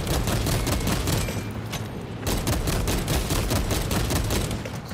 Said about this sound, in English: Someone was shooting the hell out of me from a distance while I was fighting.